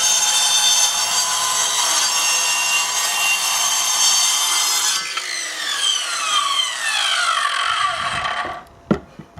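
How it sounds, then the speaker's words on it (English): A cheap electric circular saw cuts timber for a garden shed deck. The motor screams loud and steady for several seconds, then winds down with falling whine as the blade spins out, ending in a few clunks. "we've got the old circular saw out, and this does make life very easy indeed"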